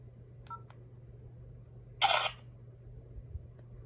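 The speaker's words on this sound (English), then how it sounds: "did you hear that shutter sound? Here, listen to that again." A 2013 Sonim XP Strike phone from Sprint gives a single short synthetic camera-shutter click in camera mode, bright and brief. A couple of soft electronic beeps come just before it, all quiet and close, with no talking.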